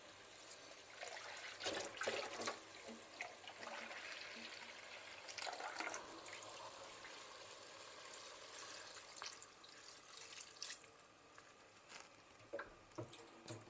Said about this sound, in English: we're going to add a little bit of water